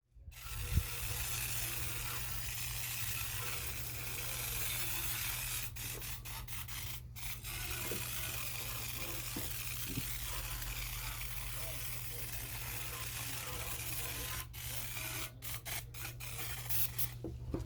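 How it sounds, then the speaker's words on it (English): A continuous hissing spray of degreaser onto a 1977 Corvette C3 oil pan runs under a low mechanical hum, with scattered clicks and short breaks as the nozzle is pumped. "I'm also spraying down the inside of the oil pan"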